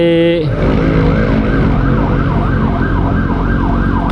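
An ambulance siren on the road, heard from a moving motorcycle, loud and close, its wailing tone sweeping up and down over steady engine and wind noise.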